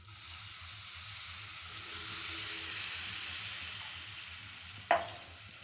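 Semolina with ghee, sugar and milk is stirred in a hot pan, a faint low bubbling simmer with soft scraping that ends in one sharp clink.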